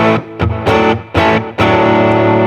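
Distorted electric guitar through a Fender Deluxe Reverb tube amp at bedroom level, a few loud chord hits and bursts with a short sustained ring at the end.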